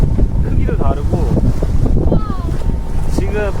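Strong wind buffets the microphone while waves slosh around a boat out at sea, a loud, continuous rush with people talking over it.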